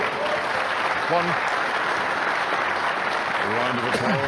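Snooker audience at the 2013 World Championship breaks into sustained applause, a dense even roar of clapping with brief commentator voices underneath.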